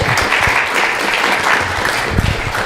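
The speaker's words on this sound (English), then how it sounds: "Make round of applause." A crowd applauds steadily after a religious class, a dense wash of clapping that holds at an even level for the whole stretch.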